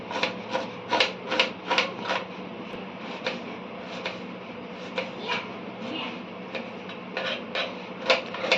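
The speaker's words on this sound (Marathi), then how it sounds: "आता कांदा कापून घेऊया" A knife chops an onion on a board in a home kitchen, with a steady series of close, sharp taps and cuts, some in quick clusters, over a faint background hum.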